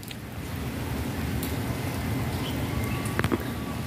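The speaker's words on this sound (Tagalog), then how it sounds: "Yung ulan." Steady rain falls outdoors among garden plants in Riyadh, Saudi Arabia, a soft continuous patter with a few sharper drips near the end.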